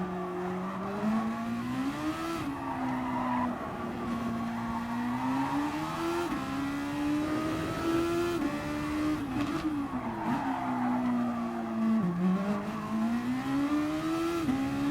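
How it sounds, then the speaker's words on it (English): Super Formula race cars lapping the Interlagos circuit in GT Sport, a steady, loud engine whine that rises and falls with shifts and corners, with occasional tire squeal and no talk. "Really fun race, these Formula cars on Interlagos."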